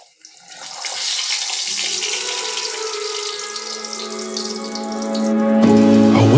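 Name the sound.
chocolate paratha frying in oil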